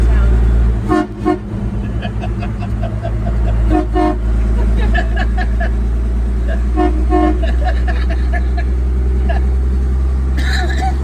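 Car horn toots sound in short repeated bursts over steady engine rumble and road noise while driving, with people talking in between.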